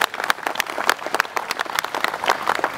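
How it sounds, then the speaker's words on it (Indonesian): Applause from a seminar audience at a company health talk, with individual claps distinct and close, forming an uneven, lively patter of hands that stays fairly loud throughout. "Tepuk tangan untuk kita semua."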